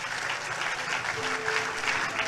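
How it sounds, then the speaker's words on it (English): A church congregation claps together in a dense, continuous burst of applause that fills the room throughout. "Clap for Jesus."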